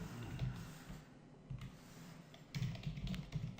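Fingers type quickly on a computer keyboard, entering code in irregular bursts of close, light clicks that briefly pause and then resume, with no voices.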